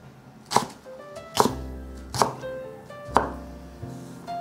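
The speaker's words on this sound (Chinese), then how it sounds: "把碧玉笋切成小段状" A knife chops green bamboo shoots into short pieces on a cutting board, giving five crisp, evenly spaced thunks with no talking.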